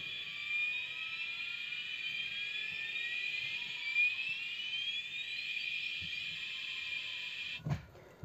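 A car reversing alarm that plays a jet aircraft sound gives a loud, steady high whine with slowly rising sweeping tones. It runs without a break for about seven and a half seconds, then ends in a short thump.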